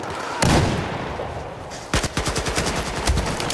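Gunfire in Battlefield 4 on the Shanghai map: one loud blast, then a rapid automatic burst of sharp, evenly spaced shots, loud and close.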